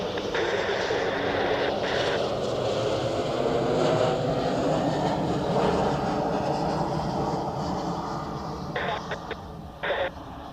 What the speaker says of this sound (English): So we have the Helvetic Embraer 190 from Marseille.